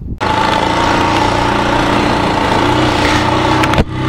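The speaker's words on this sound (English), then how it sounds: "we're now driving the TLR 200" A 1983 Honda TLR 200 trial motorcycle's small single-cylinder engine runs steadily and loudly close by, with a continuous buzzing drone under road wind, then drops off near the end with a brief thump.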